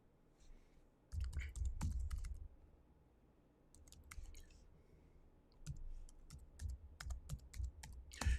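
Typing on a computer keyboard during a penetration-testing demonstration, bursts of quick, close, crisp keystrokes and clicks with short pauses between, fairly quiet.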